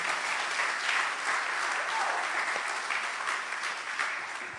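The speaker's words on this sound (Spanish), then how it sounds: "el que lo crea, dale un aplauso al Señor" A church congregation applauds during a sermon, with steady, dense clapping that holds at an even level and carries some faint voices through the whole stretch.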